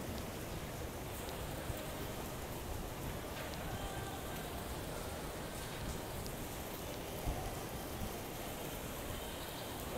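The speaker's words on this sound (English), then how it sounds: "Oh, it's raining over there." Steady rain falls during a typhoon on the Hong Kong waterfront, a dense, even hiss of drops on surfaces, constant throughout with faint background noises.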